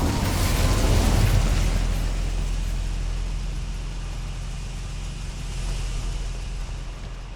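The Incendio fire spell in Hogwarts Legacy roars as a broad, sustained whoosh of flame that starts loud and slowly eases off without fading out, with no distinct pops or breaks.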